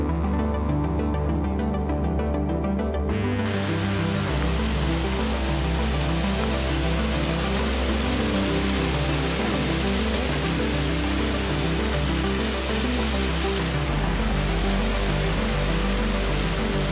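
Waterfall along the Lake Annette hiking trail, a steady, loud broadband rush of falling water that swells partway through and holds without pause, with no voices.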